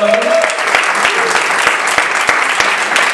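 A church congregation applauds a fellow member, loud close clapping with sharp individual claps standing out over a dense roar, a voice briefly audible near the start.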